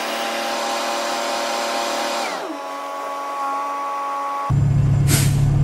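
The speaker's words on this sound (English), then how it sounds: "the air released from the air dryer" A steady mechanical hum gives way to a sudden loud burst of hissing air from a truck's air dryer purging once pressure reaches 125 PSI, close and forceful, continuing to the end.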